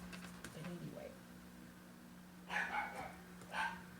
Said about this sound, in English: there goes Casper barking if you hear her in the background